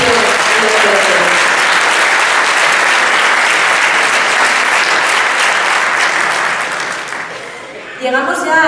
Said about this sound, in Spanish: un aplauso para ella por su dedicación en los colegios